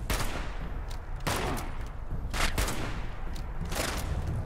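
Rapid gunfire from the video game Fallout 76, with several loud bursts of shots at roughly one-second intervals over a constant noisy background and no talk.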